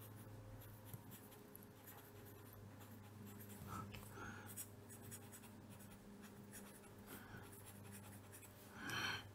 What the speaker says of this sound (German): Ich schreibe das jetzt noch auf